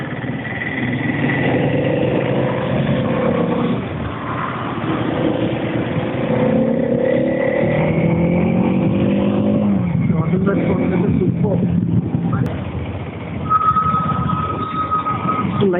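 Engine of an RTX 300 adventure motorcycle on a test ride, humming and revving steadily at close range, with a rider talking over it most of the time.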